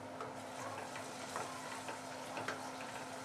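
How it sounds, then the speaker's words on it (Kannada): Coarse ginger-garlic paste frying in oil for a tomato bath, a steady crackling sizzle throughout with faint stirring scrapes, close and continuous, no voices. "ಟೂ ಮಿನಿಟ್ಸು ಸ್ವಲ್ಪ ಎಣ್ಣೆಲಿ ಫ್ರೈ ಆದರೆ ಸಾಕು"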